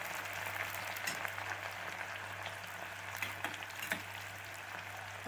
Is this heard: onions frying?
yes